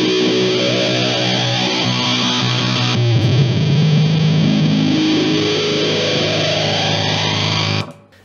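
An electric guitar runs through an octave pedal with distortion after it, giving a thick, buzzing sustained tone. Partway through, a new note bends and slides up, then the sound cuts off abruptly near the end.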